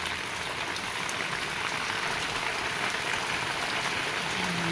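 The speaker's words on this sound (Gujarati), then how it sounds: "વરસાદ જો થઈ ગયો છે ચાલુ" Steady rain pours down continuously, a dense hiss of drops pattering on surfaces with no voices.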